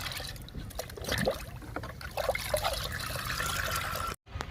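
Homemade liquid fertilizer of kitchen waste, green grass and tea decoction poured onto vegetable and leafy garden plants, a steady close trickle and splash of liquid running for several seconds before a brief cutoff.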